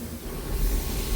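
Marinated fajita steak sizzles in a hot pan, a steady close hiss and crackle that swells slightly louder toward the end, with no talking.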